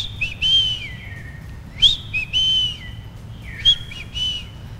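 A man whistles an imitation of the bichofué bird call, three separate rising-and-falling whistled phrases that repeat with short pauses. The whistling is loud and close over a low background rumble.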